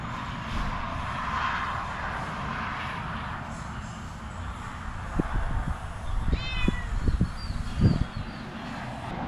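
A cat meows a few times, rising chirps near the end over a steady low mechanical hum, with faint thumps of handling as a roof fan is fitted on a C-Dory TomCat boat.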